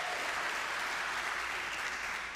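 A church congregation applauds steadily and fairly quietly throughout, with dense, even clapping and no break.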